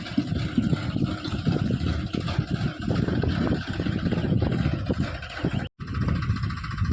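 A Massey Ferguson 5225 DI mini tractor engine idles with a steady rumble, broad low-end noise throughout, with a brief dropout near the end.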